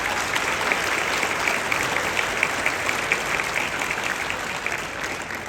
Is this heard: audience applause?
yes